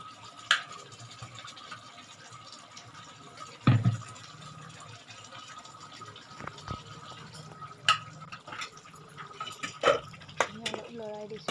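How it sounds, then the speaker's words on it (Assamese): A spoon stirring duck curry with garam masala and meat masala paste in a pot, soft scraping and wet squelching with occasional sharper clinks against the vessel, under quiet background talk. "অলপ লৰাই দিছোঁ মই।"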